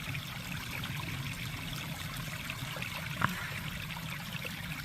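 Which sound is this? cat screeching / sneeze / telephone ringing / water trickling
water trickling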